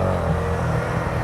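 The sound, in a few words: Honda motorcycle engine revving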